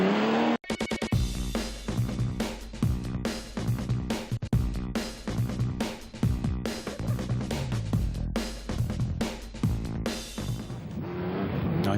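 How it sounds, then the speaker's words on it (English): Bugatti's last Grand Prix racing car at full effort, its engine blaring in a loud, harmonically rich howl that surges and drops repeatedly as the revs rise and fall through gear changes. "Jean-Pierre Vermeil at the wheel of Bugatti's last Grand Prix car"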